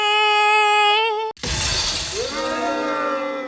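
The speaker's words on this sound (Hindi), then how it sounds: "चौकी का शीशा फोड़ दिया तैने" A sung, tonal passage is cut off abruptly by the crash of a police post's window glass shattering, a sharp loud burst followed by a bright, lingering scatter of breaking and settling shards.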